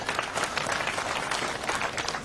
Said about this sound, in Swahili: Swap makofi tafadhali.